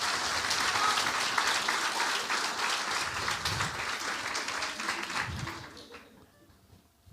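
A church congregation at Iglesia Sión Barakaldo in the Basque Country applauds to welcome visitors, steady dense clapping filling the room for about six seconds before fading out.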